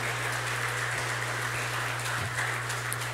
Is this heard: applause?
yes